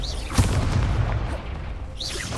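A Confringo spell blast in the game Hogwarts Legacy lands as a heavy boom that rumbles on briefly, framed by whooshing magical sweeps at the start and again near the end.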